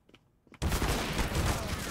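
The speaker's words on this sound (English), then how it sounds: "I'm taking the shotgun sniper, obviously." An automatic shotgun sniper rifle in the game CS:GO fires after a brief quiet, opening into a dense, loud burst of continuous gunfire that runs to the end, with no talk.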